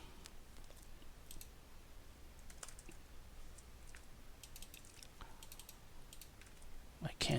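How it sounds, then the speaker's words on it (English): Someone types on a computer keyboard. Rapid, irregular key clicks come in short bursts over a low steady room hum, and a louder clack lands at the very end. "I am typing"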